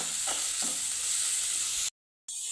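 Onions fry in hot oil, a close, steady hiss of sizzling with faint stirring, briefly cut to silence near the end before the sizzle resumes.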